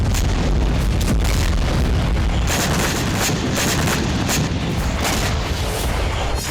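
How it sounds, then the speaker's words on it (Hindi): Heavy booms and blasts from missiles striking the ground in Kursk roll over one another without a break, a dense, loud rumble of explosions with no voices. "एयर डिफेंस की मिसाइलों से जमीन पर धमाके हुए"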